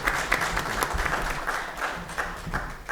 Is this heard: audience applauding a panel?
yes